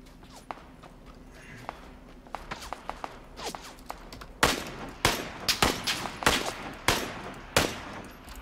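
Gunfire in the PUBG battle game: scattered faint shots early on, then from midway a run of about eight loud, sharp reports in quick irregular succession, close and dominant.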